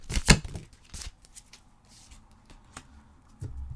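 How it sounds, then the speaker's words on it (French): Cards from a tarot or oracle deck being handled as an advice card is drawn, a loud papery riffle at the start followed by scattered soft card slides and taps. "Je vais aller chercher une carte conseil."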